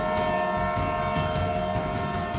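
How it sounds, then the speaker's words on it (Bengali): A train rolls onto a bridge as a horror-story sound effect, a loud, continuous rumbling drone with a steady tonal hum and faint rhythmic clatter throughout, with no voices. "ট্রেন আবার একটা ব্রিজে ওঠে। গুম গুম আওয়াজটা বাড়তে থাকে।"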